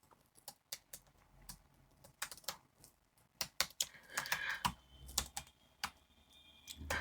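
A computer keyboard is typed on nearby to enter a login ID, with irregular quick clusters of crisp keystrokes, a few louder key presses, and a faint tone in the background.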